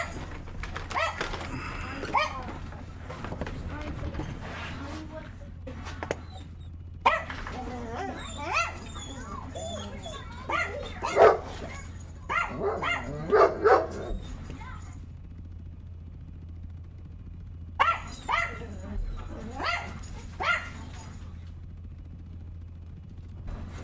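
Dogs bark and yip in short bursts at close range, broken by pauses and a few whimpers, while a person talks quietly in the background over a low steady hum.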